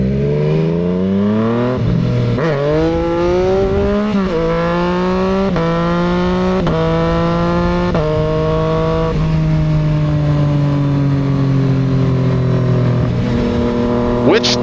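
A Yamaha XSR900 motorcycle, a derivative of the MT-09, accelerates hard for wheelies. The engine note climbs in repeated rising sweeps through several gear changes, loud and close, then settles into a steady drone.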